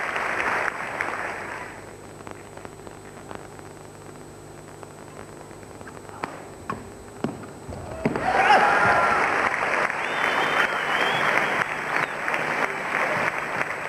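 Spectators at a badminton match break into applause and cheering, starting quietly then swelling into a louder, sustained burst of clapping from the crowd in the second half.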